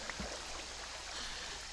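Steady, soft trickling of water flowing in the Minecraft video game, a continuous faint babble with no talk over it.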